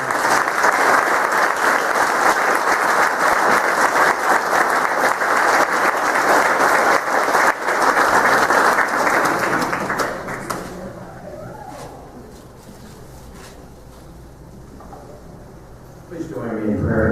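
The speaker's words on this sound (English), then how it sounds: "we give these three a round of applause" Strong, sustained applause from an audience at a police retirement, promotion and swearing-in ceremony rolls on for about ten seconds, then drops to a quieter room with scattered taps and rustling before noise rises again at the very end.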